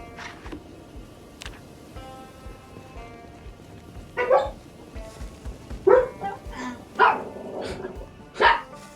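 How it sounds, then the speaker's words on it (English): Several dogs bark in the video game Project Zomboid, a cluster of short, sharp barks coming in bursts over a low background, some overlapping, at moderate distance. "The cacophony of dogs."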